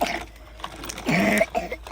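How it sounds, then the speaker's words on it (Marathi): A few rough, throaty coughs in quick succession, close by, with a brief throat-clearing quality. "खोकला यायला लागला तुला तर"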